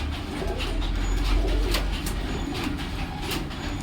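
A pair of Madras pigeons, one paired with a white male, coos softly at close range, with a low rumbling background noise running underneath.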